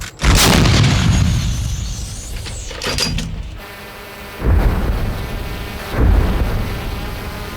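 Several heavy booms from L119 artillery cannon fire, one large blast followed by two more thuds a few seconds apart, with rumbling echoes and outdoor noise between them.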